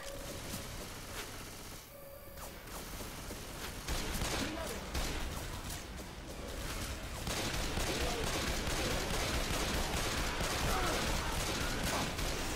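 Rapid sustained chain gun fire in Left 4 Dead 2, a dense continuous rattle that builds and carries on over background game noise, with people talking alongside.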